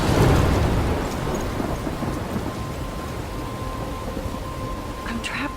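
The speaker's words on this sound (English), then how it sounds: "I'm trapped in a storm?" A thunderstorm with heavy rain in the video game Life is Strange 2: a loud rumble of thunder swells at the start and settles into a steady hiss of rain, with a faint tone and a few drips near the end.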